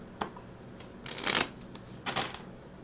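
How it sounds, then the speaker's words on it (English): A deck of tarot cards being shuffled up close, two or three brief rustling, riffling bursts over a soft steady background, with no voice. "We're going to pull cards for the weeks"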